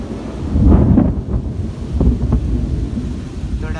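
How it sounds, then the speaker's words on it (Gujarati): Thunder rumbles loudly and close during a rainstorm as rain starts wetting the road, with wind buffeting the microphone and a heavy low roar swelling and fading. "વીજળીના ગરજ સાથે અહીંયા વરસાદ શરૂ થઈ ગયો છે"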